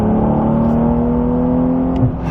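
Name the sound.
Porsche 992 Carrera T engine revving while driving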